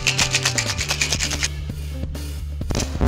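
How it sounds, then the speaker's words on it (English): Ice rattling inside a cocktail shaker as a rum daiquiri with fresh lime juice and rich simple syrup is shaken hard, a steady rapid rhythm of close, loud rattles lasting a few seconds with no voices. "Give it a good shake."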